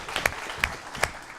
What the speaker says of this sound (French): On les applaudit une nouvelle fois.